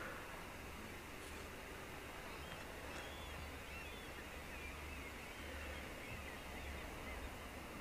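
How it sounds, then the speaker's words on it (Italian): Seagulls call faintly in the distance over steady outdoor wind and surf noise in a Norwegian harbour, with sparse high cries and no speech. "E sul tetto c'è anche un gabbiano che cova."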